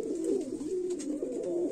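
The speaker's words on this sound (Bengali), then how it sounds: "দর্শক আমরা আরেক জোড়া কবুতর দেখাচ্ছি আপনাদের" A pair of Choya Chandan pigeons at a pigeon seller's coo steadily up close, a low throaty warbling that swells and dips in repeating phrases, with no talking.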